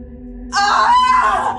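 A woman screams loudly and at length outdoors, a sustained, wavering shriek with a strained, wailing quality, with no other voices.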